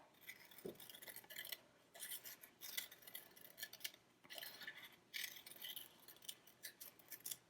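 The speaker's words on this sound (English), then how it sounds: "once you cut a circle, you're going to kind of cut it around like a spiral" Scissors cutting a circle of scrap paper around into a spiral, a series of quiet crisp snips and paper rustles in irregular bursts, close and faint, with no talking.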